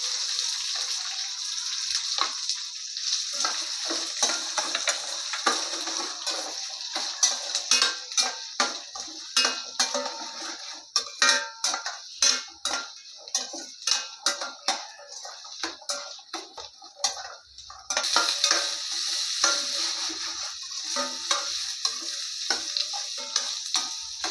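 Green chilies and finely chopped shallots frying in a pan, a bright sizzle broken by a run of sharp scraping stirs from a spoon at close range.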